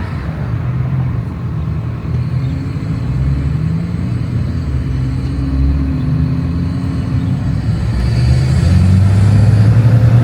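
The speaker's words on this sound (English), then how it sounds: "Right now I'm just driving." A car driving along a road, with a steady engine rumble and road noise heard from inside the car that swells a little near the end.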